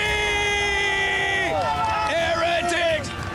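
At a VALORANT esports event, the crowd cheers for Benjyfishy with a lively roar, while a loud voice shouts over it with rising and falling calls.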